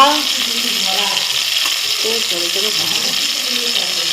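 Green chillies tossed into a hot pan with softened tomatoes for a fish curry, giving a steady broadband sizzle throughout, while a voice talks over it.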